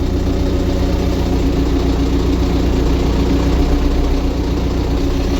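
A LOVOL small tractor engine with cab runs steadily at close range, a continuous low, loud rumble with a constant drone and no voices, holding an even idle-like pitch throughout.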